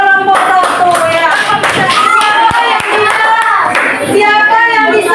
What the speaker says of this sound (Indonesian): Tepuk tangan untuk kelompok 1 ya.